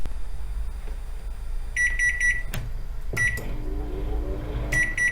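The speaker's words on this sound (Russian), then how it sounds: "А вас тоже бесит писк микроволновки по утрам?" Samsung microwave oven beeping in short repeated bursts of high electronic tones over a low kitchen hum, with a couple of sharp clicks from button presses.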